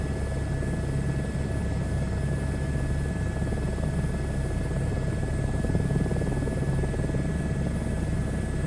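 A helicopter flying in a flight simulator game, a steady, loud, continuous rotor and engine drone with a constant hum and buzzing tones, no talking.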